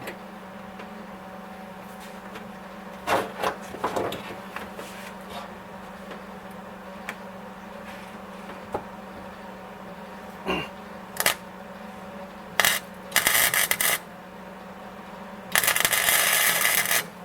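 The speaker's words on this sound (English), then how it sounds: "I believe I need to tune the welder a little bit." Short bursts of crackling welding sizzle while welding a Datsun 280ZX floor pan, several brief spurts, then a longer buzzing run near the end, over a faint steady hum.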